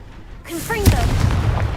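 Confringo blasting spell exploding in Hogwarts Legacy, a sudden booming blast that bursts in after a moment of quiet, with whooshing magical tones sweeping through and a rumbling tail that stays loud to the end.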